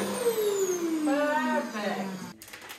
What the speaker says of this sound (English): we gotta have a vacuum